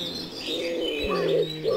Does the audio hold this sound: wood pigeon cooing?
yes